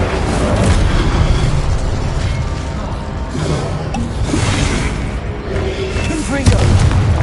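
Incendio fire spells cast in the Hogwarts Legacy video game, rumbling booms and whooshing bursts rolling over a busy, noisy background, with a sharper impact near the end and a voice speaking over it.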